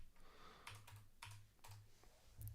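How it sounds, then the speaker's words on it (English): Rapid typing on a computer keyboard gives quick bursts of crisp key clicks separated by short pauses, quiet and close, with no voices. "Look how quick the typing is."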